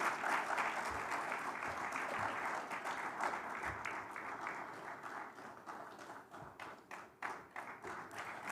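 Applause at a Namibia-EU business forum as a co-founder is welcomed on stage, a sustained wash of clapping from a seated audience that thins slightly toward the end, heard at a distance.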